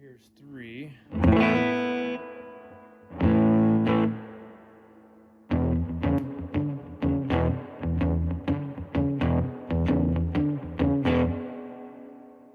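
Electric guitar chords played through a Fender Princeton solid-state amp with heavy reverb: a few ringing strums, then a run of quicker chords, each trailing off in a long, washy tail.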